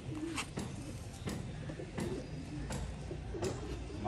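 Soft, repeated pigeon cooing at a moderate distance over a steady background hum.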